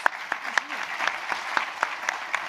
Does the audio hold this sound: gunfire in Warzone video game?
no